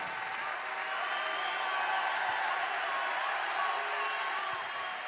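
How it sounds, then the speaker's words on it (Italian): A large crowd applauding at a packed Lega Nord political rally in an indoor arena in Padova, with dense sustained clapping filling the hall evenly from start to finish and no distinct voices above it. "fate arrivare a casa della gente l'applauso da Padova"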